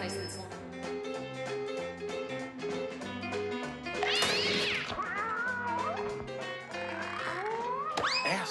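A cartoon cat meows and yowls in rising, wavering cries over busy background music, fairly faint in the mix, with people talking over it.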